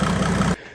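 A steady, loud Mercedes-Benz OM606 diesel engine roar with a big turbo, a rumbling low end holding for about half a second, then cutting off abruptly into near silence.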